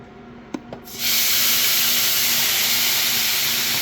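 Shrimp, scallops and squid drop into a hot pan, setting off a sudden loud, steady hiss of sizzling that starts after a couple of soft clatters and holds unbroken to the end.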